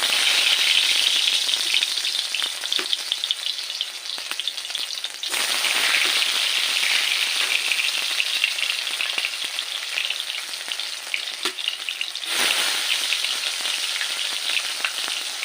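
Potatoes fry in a pan of hot oil, giving a dense steady sizzle close by, briefly dropping twice as the pieces are turned, with no voices.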